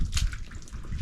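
Water trickles and drips softly through a homemade water trough and canal system at an outdoor homestead, with a faint, close, uneven gurgle.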